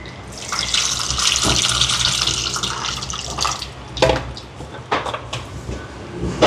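Water pours steadily into a pot of rasam for a few seconds, then trickles and splashes in short bursts, close by with no talking.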